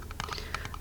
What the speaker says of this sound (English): a metal tin.